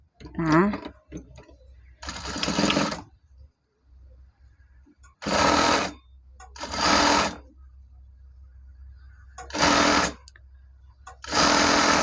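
A sewing machine stitches the hem of a stretch-fabric dress in five short, loud whirring bursts separated by pauses, with a brief voice near the start.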